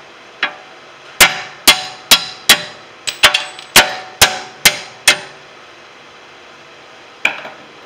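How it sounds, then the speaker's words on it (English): A series of sharp metallic hammer strikes knocking out strut bolts on a 2011 Cadillac SRX, about a dozen loud bangs at an uneven pace, then a pause and one more blow, close by with no talking. "make this a hammer"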